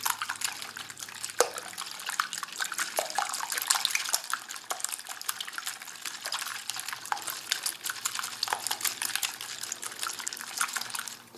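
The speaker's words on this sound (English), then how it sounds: "That's whisked to a very smooth consistency." Eggs whisked smoothly in a bowl for a pizza omelet, a steady, fairly quiet run of quick clicking and scraping strokes with no talking.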